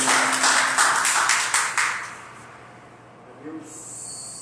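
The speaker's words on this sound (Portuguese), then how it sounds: "Salve de palmas para o Senhor Jesus" A church congregation claps for Jesus, a dense burst of many hands clapping that fades out over a couple of seconds, followed by a quieter room tone with a brief high tone near the end.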